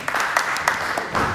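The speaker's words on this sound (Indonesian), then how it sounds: "Tepuk tangan." Applause from a church congregation at a Sunday worship service, a steady wash of many hands clapping with a few sharper bursts, fairly close and continuous.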